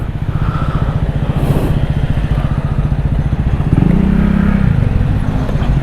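A Yamaha YZF-R3 motorcycle idles loudly and close up with a steady, throbbing rumble, then revs up as it pulls away from a green light at a city intersection.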